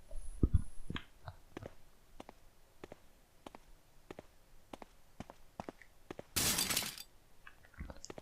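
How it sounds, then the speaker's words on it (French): Window glass breaking in Resident Evil (2002), a loud bright shattering crash lasting under a second, set among scattered quiet footsteps and clicks on a faint room background. "La fenêtre qui se casse."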